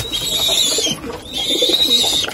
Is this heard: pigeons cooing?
yes